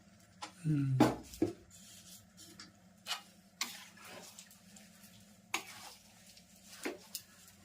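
Ladle scraping and stirring a thick gundar pak mixture of gum and coconut with extra ghee in a pan, intermittent clanks and scrapes at close range, no talk.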